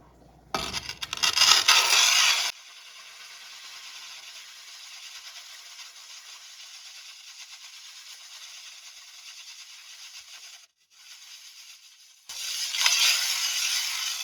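Rough, gritty scraping of a muller grinding watercolor paint that contains sand, with a loud bout at the start, a softer steady rub through the middle, then a louder burst again near the end.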